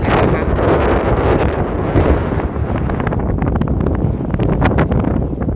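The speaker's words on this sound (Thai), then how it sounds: "แต่ว่าลมแรง" Strong wind blows across an open mudflat where people gather cockles, roaring steadily and loudly against the microphone with constant buffeting and gusting rumble.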